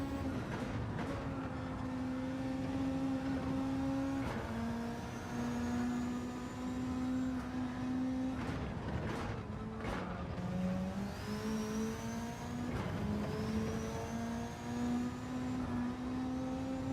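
A car engine in Gran Turismo 7 drones and climbs through its revs, stepping down in pitch at each gear change and rising again over a long, steady run with no talking.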